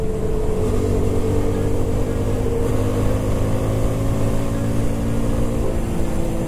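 Italika Vort-X 250 motorcycle cruising at speed, its engine holding a loud, steady drone close by with slight pitch shifts and no talking.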